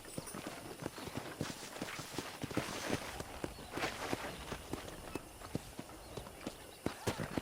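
Horse hooves clip-clop at a steady walking pace in the video game Red Dead Redemption, close and clear, with light game-like ambience underneath.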